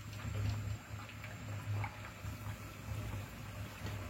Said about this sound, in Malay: Inilah kita goreng